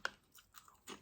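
Crunchy Brazilian crisps are chewed close to the ear, giving a few sharp, quiet crunches at the start, in the middle and near the end, with no speech.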